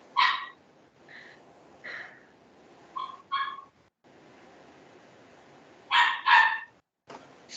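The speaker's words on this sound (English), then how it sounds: "I have a dog in the background." A dog barks in the background during an online meeting: about six short, sharp barks in uneven bursts, moderately close, with quiet pauses between them.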